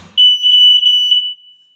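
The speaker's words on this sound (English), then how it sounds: "Just push and hold, makes the alarm sound." A household smoke detector's test button sets off its alarm: a loud, piercing high beep sounding in three or four quick pulses close by, then cutting off.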